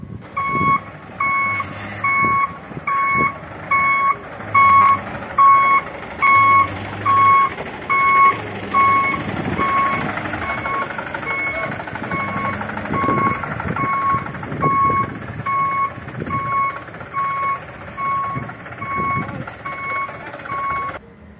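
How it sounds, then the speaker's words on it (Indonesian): A truck reversing, its backup alarm beeping in a regular repeating pattern over a low engine rumble, with faint background noise and scattered knocks. "kita putar balik dulu truknya biar gampang"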